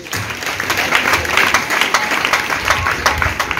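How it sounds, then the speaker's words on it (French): Church congregation at a harvest celebration service applauding together, a dense, steady wash of many hands clapping fairly close and loud, with scattered cheering voices mixed in. "Je voudrais que nous acclamions vraiment le Seigneur pour ça."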